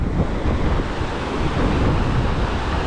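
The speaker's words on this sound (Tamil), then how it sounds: "எப்படி ஓடுது பாருங்க தண்ணி." Fast-flowing river water in Pahalgam, Kashmir rushes in a dense, steady roar, loud and close with constant churning and no pauses, with no one speaking over it.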